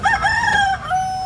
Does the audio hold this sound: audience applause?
no